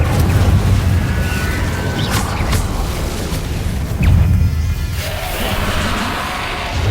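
An Incendio fire spell cast in the Hogwarts Legacy video game, heard as a loud, dense rumbling burst of flame. Booming roars and bright crackles swell and recede over several seconds.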